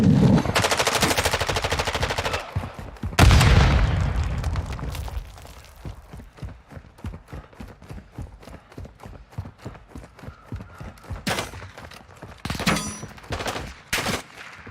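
Call of Duty Modern Warfare 2 DMZ gunfire comes as long dense automatic bursts up close, then settles into rapid repeated single shots and short bursts that continue steadily to the end.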